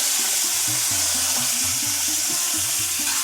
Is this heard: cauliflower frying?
yes